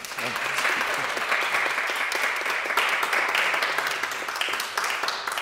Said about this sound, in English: I wasn't expecting applause, but thank you